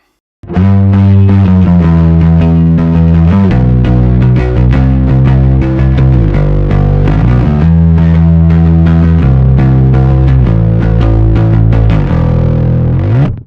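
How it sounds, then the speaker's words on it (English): A De Gier Soulmate 51 bass guitar through a distortion pedal plays a gritty, droning riff with thick, buzzing tone, loud and steady with no talking. "So let's send it through a distortion."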